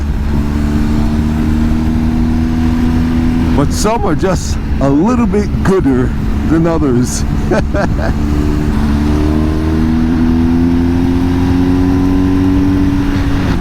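A motorcycle engine drones steadily throughout at close range, its pitch rising and falling with throttle changes and easing upward near the end, while someone talks over it.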